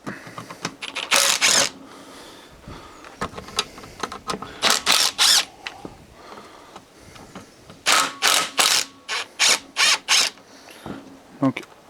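Steering rack mounting bolts are loosened with a ratchet, giving bursts of rapid metallic clicking in repeated short runs, close and fairly loud, separated by quieter handling noises.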